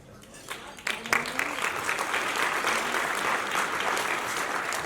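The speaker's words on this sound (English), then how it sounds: "judging by how great an applause just when his name was stated and when he was walking up, people know Joe" Sustained applause from an awards ceremony audience greeting an honoree as he walks up, starting after a brief lull and swelling into steady, dense clapping, with a faint voice or whistle briefly audible over it.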